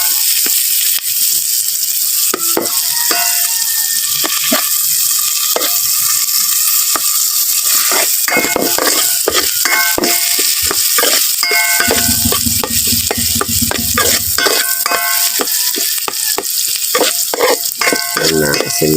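Garlic, onion and chili sauté in a pan, a loud close crackling sizzle with frequent rhythmic scrapes and clatters of a spatula against the metal.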